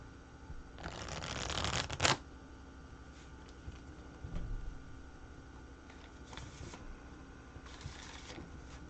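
A burst of tarot card shuffling riffles loudly for about a second, followed by quieter handling taps and soft rustles against a faint steady hum.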